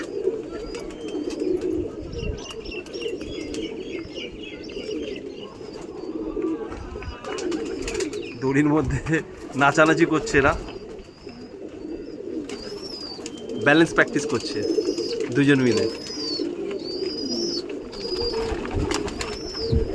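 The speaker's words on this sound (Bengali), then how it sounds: "নিচে পায়রা খাওয়ানো হচ্ছে" Champion racing pigeons in a cage coo in low, continuous murmurs, swelling in short louder bursts, while someone speaks over the birds for most of the time.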